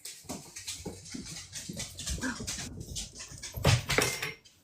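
A puppy whimpers and whines in short, soft bursts at close range, scattered across the moment with small rustling and movement sounds, louder near the end.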